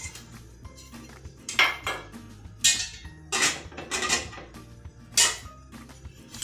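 Vegetable idli batter stirred in a metal bowl, with irregular clinks and scrapes of a spoon against the side, some sharper knocks mixed with softer swishing, close and moderately loud, no talking.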